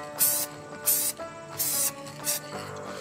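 A spray can lays a light first coat of paint on RV storage compartment handles in four short, close hissing bursts at a steady pace, each about a quarter second long, with no one speaking.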